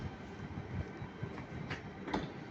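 A 2NGR regional train in Nord-Pas-de-Calais livery pulls out of Lille Flandres station toward Calais-Ville, giving a continuous rumble with faint wheel clatter and a few squeaks, heard at moderate distance.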